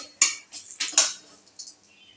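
Turmeric stirred into oil in a pan for leftover-rice pulao, a few short metallic scrapes and clinks of a spoon against the pan in an otherwise quiet stretch.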